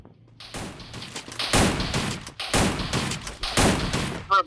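Rapid bursts of automatic gunfire from the video game Free Fire, loud and dense, coming in several volleys separated by brief pauses.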